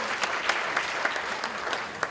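An audience claps at a celebration of life gathering, a steady, dense round of many hands with a faint rhythmic pulse coming through, moderately loud and with no voices over it.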